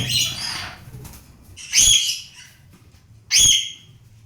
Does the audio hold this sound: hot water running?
no